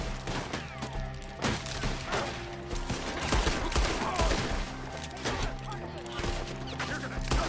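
A chaotic gunfight in Red Dead Redemption II, with rapid, overlapping shots cracking constantly at varying distances beneath shouting voices and a busy, dense battle din that never lets up.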